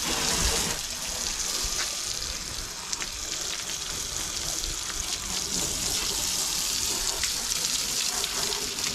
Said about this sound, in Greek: Θα το ξεπλύνουμε.